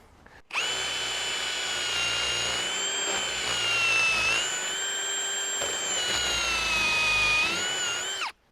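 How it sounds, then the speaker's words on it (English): A power drill bores into wood while a deer fence is being built, giving one close, loud, sustained whine of about eight seconds with a slight rise and dip in pitch. "Then I'm just gonna start my drill bit into it."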